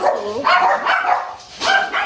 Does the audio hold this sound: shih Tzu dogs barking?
yes